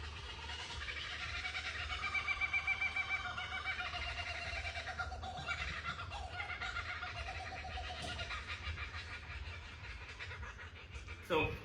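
A kookaburra calls in the morning on Magnetic Island, Queensland, its rolling, cackling song carrying faintly over steady outdoor background noise, with people talking nearby.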